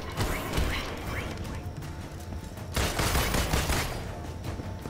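Rapid gunfire and mechanical clatter from the video game Marvel's Avengers, with shots at a target in a steady stream of rattling bursts and a louder flurry near the end, all at moderate volume.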